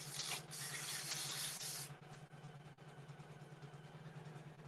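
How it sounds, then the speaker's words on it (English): An embroidery machine hums and whirs steadily as it stitches out a curved letter C on a breast cancer awareness ribbon design. A brighter, rapid stitching buzz comes first, then a quieter, steady mechanical drone. "So it's stitching out the C, and that C is on a curve."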